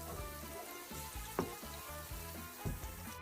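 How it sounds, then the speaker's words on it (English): Garlic and ginger frying in a pan, a soft steady sizzle with a couple of brief clinks as the pan is stirred. "So I'm going to fry this"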